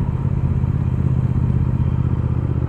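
A Triumph Speed Twin motorcycle engine runs steadily while being ridden, a loud, close, continuous low throb with a thrumming pulse and no speech over it.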